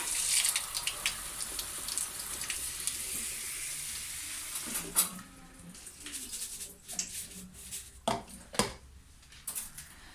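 Tap water runs in a kitchen sink while sushi rice is rinsed until the water runs clear, a steady broadband splash in the first half, then thinning to intermittent splashes and clinks of the pot.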